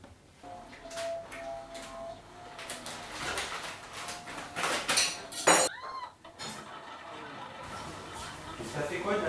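Dishes and cutlery clink and clatter while a dishwasher is loaded at home, with irregular clanks and a few sharp metallic rings, close by, mixed with talking and background noise.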